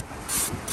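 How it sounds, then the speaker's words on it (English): A sanding block loaded with 600-grit paper rubs along the sharp back edge of a humming wing foil, giving three short, dry strokes of scratchy friction close to the mic, alone and without talk. "I got a sanding block here"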